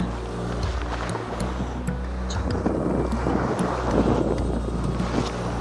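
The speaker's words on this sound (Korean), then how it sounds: "아, 바람이 조금 더 세지네." Strong wind on a rocky island shore during shore jigging, a steady loud roar buffeting the microphone with a low rumble of surf underneath, continuous throughout with no talk.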